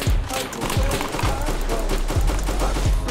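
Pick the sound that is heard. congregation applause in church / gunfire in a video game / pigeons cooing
gunfire in a video game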